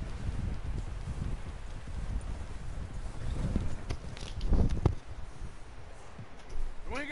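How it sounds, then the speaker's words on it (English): Horse hooves clip-clop at a walking pace in Red Dead Redemption II, soft and fairly close, with rustling and wind-like noise around them and faint voices in the background. "Someone help John down off this horse."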